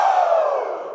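A large college chapel crowd belts out a single loud, drawn-out Ric Flair "Woo" in unison, slowly fading over a second.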